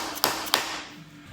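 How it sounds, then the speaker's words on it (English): Two sharp, close taps from a dead blow hammer strike a 5.7 Hemi engine part during teardown, about a third of a second apart, each a quick dull knock followed by quiet room tone. "I want to give these a little bit of a tap with a dead blow hammer."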